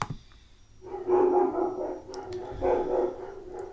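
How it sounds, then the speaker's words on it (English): Dogs barking at home in a few loud bursts, close by, with irregular pauses between barks and no talking over them. "My dogs. My goodness."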